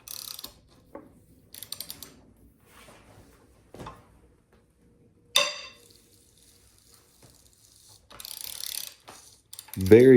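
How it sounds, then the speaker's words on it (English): Ratchet turning the crankshaft pulley bolt on an Audi VW 2.0T TFSI engine during a teardown, sparse clicking pawl ticks and short metallic bursts with quiet gaps between them, close up, ending in a louder clunk. "if you use a ratchet, make sure you're pulling evenly straight on the crankshaft pulley"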